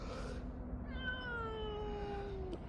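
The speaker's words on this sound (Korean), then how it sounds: "야옹하는 소리야" A single drawn-out meow from a cat sick with panleukopenia slides downward in pitch, soft and nearby, over a quiet background hum.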